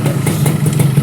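A Yamaha RX-King 135 motorcycle engine runs close by with a steady, slightly uneven idle and a dense mechanical clatter, holding at an even level throughout with no voices.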